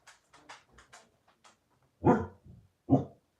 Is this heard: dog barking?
yes